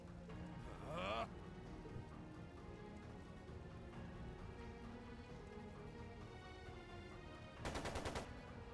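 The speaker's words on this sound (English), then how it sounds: "It sounded like a machine gun." Machine gun fire in the video game Trails of Cold Steel 2 comes in two short, rapid rattling bursts, one near the start and one near the end, with quieter game sounds and voices in between.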